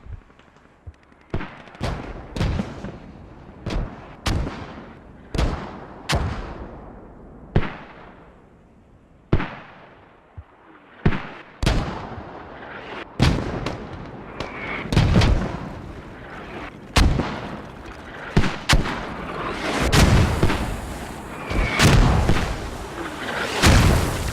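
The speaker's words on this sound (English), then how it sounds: "Mortar's been absolutely pinpoint accurate at the moment, causing some havoc for Death Wish Commando" Mortar shells bursting in a video game battle, a string of sharp booming explosions landing every second or two, some nearer and louder than others, with a denser rumbling stretch toward the end.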